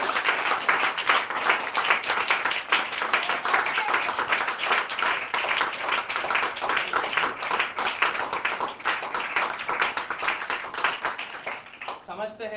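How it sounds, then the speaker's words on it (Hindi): Congregation at a church sermon applauding loudly, a dense sustained burst of many hands clapping that carries on steadily for about twelve seconds before fading. "मुकद्दस मूसा के लिए एक बार जोरदार ताली।"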